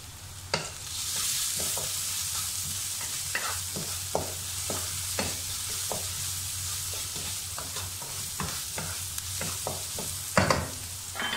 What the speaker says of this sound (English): add in the salt to make the onion cook faster caramelize it